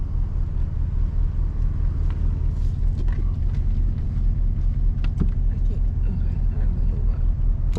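A car idles and creeps forward in drive during a drifting lesson, giving a steady low engine rumble that runs throughout with a few faint clicks and a brief louder knock near the middle.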